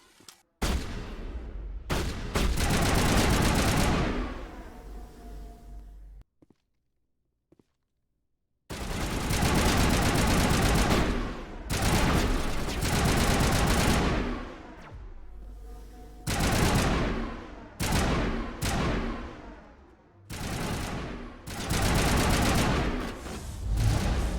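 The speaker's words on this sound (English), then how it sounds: "This is the assault rifle." Rapid bursts of assault rifle fire in the video game Mass Effect, loud and close, coming in long sustained volleys separated by short pauses and one longer silent gap.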